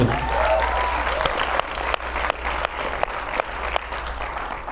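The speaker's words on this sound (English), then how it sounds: "You can clap for her again." An audience claps for a singer in a steady burst of applause, moderately loud with sharp individual claps standing out, while a low hum runs underneath.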